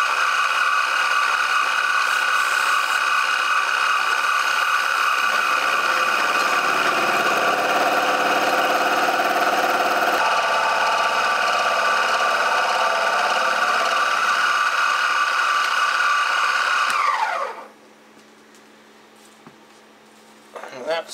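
A milling machine running a carbide insert facemill at 1000 RPM hums and whines steadily with a deep cutting drone in the middle, then winds down and stops, leaving near silence.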